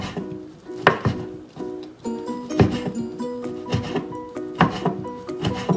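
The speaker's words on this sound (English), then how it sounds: "So you're just gonna do that to all of the meat, just slice them." A knife slices through chicken meat on a cutting board for Lao larb, with a series of close, irregular thuds and scrapes, some ringing clatter between cuts and no talk.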